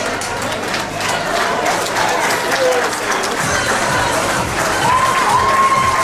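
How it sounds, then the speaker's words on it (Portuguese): Audience claps and cheers for an 88-year-old contestant at a most-handsome senior pageant, a steady wash of applause with scattered shouts and a voice over it. "Uma salva de palmas."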